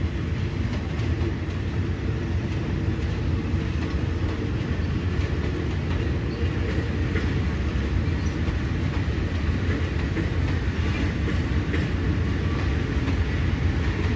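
Passenger train 261 reversing into platform 7 at Hua Lamphong station in Bangkok, a loud, steady rumble of rolling wheels and carriages with no pauses.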